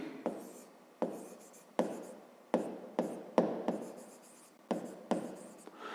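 A pen or chalk writes out a math solution in short, close strokes, about eight sharp taps each trailing into a soft scratch, spaced at a steady, unhurried rhythm.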